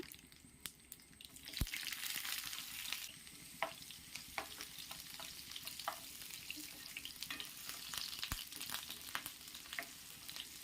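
Shallots, dried chillies and curry leaves frying in coconut oil for a Kerala jackfruit erissery, giving a steady close sizzle and crackle with occasional sharp pops and stirring scrapes throughout.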